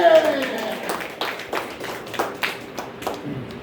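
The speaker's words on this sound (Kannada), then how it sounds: "ಚಪ್ಪಾಳೆ ತಟ್ಟಿ." A church congregation at a Kannada worship service clapping hands in a steady rhythmic beat, the claps moderately loud and sounding together with singing or talk.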